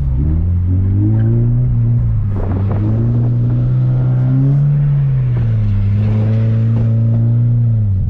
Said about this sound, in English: I decided, you know, it's a great idea to try and reattempt a 360 in this car.